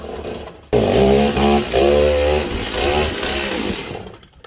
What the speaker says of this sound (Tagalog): What's that chainsaw for?